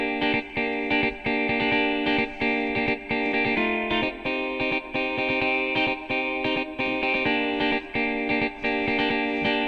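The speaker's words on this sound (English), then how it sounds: "This one is for 130 BPM and it sounds like this." A clean guitar pattern driven by the BlueARP arpeggiator at 130 BPM, with rapid, evenly pulsing plucked notes, chorus and echo effects, and a shifting chord about midway through.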